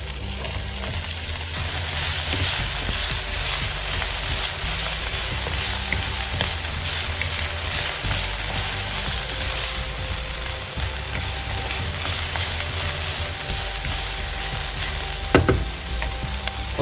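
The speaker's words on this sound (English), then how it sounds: "I'm gonna fry the potatoes now in this" Potatoes fry steadily in hot oil in a pan after prawns, a loud, continuous crackling sizzle with occasional light clatter and no talking.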